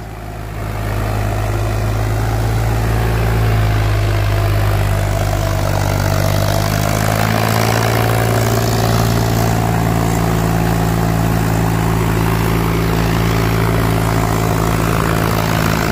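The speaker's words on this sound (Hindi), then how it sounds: "तगड़ा रड़ा आ गया भाई ट्रैक्टर का," An Indo Farm 3048 tractor engine roars steadily and loudly at close range, a deep constant drone that barely changes over its whole length.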